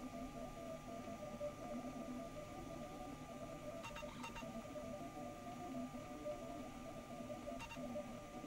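A 3D printer building a rocket layer by layer gives off a faint, steady mechanical hum with a thin whine and a few brief stepper-motor chirps.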